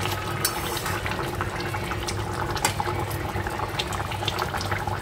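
Fish curry simmers in a pan in a home kitchen, giving a steady bubbling with small pops and a low hiss that keep going without pause, and no one speaks.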